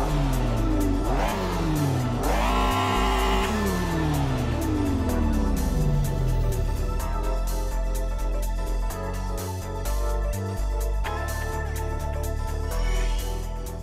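A BMW S54 3.2-litre naturally aspirated inline engine in the Assetto Corsa racing game, during a stock car event at Tsukuba, revs loudly and repeatedly, climbing and dropping through gear changes with sharp throttle blips and no talking.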